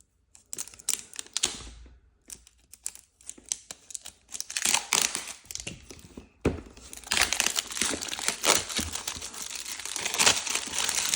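Star Wars trading card packs being opened, with close, busy crinkling and tearing of foil wrappers in irregular bursts that grow denser and louder toward the end, and no voices.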